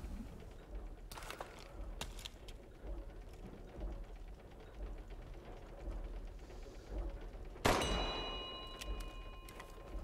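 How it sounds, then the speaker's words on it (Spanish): Giant bells ring in Resident Evil Village: metallic clangs and dings recur throughout, then a loud, sharp strike near the end blooms into a sustained ringing tone over faint background ambience. "Suenan las 5 campanas."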